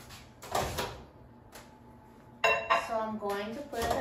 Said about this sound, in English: And now let's put it in the microwave.